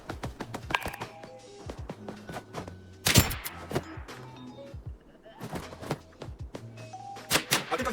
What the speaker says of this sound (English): I think I hear gunshots.